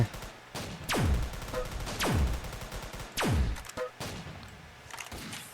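Gunfire in the Roblox game Battle Tycoon: three heavy, booming shots land about a second apart, each trailed by softer pops and thuds, loud and close.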